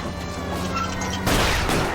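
Gunfire in L.A. Noire breaks out over a droning car engine, a harsh crackling volley that arrives suddenly partway through and continues loudly to the end.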